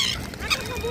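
Seagulls at Haeundae beach being fed crackers call out in short, loud, honking cries close by, with layered squawks over a windy shoreline background.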